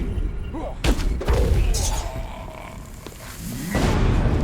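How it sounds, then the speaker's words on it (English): Explosions in the video game Romancelvania sound as a couple of heavy booming thuds among other game sound effects, followed by scattered lighter impacts. "I am not immune to explosions."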